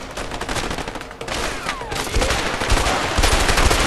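Rapid gunfire from a gun in the video game A Way Out rattles in dense overlapping bursts for several seconds, loud and close, building in intensity toward the end.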